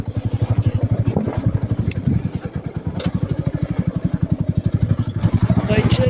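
A motorcycle rumbles over a rough, rocky road, its engine pulsing in a fast steady beat with knocks and clatter from the uneven ground, up close throughout.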